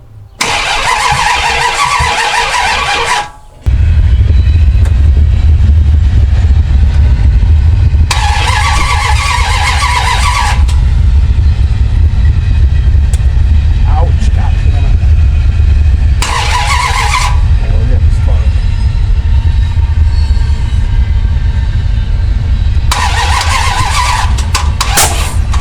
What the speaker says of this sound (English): I'm going to control this from out here and jump the starter.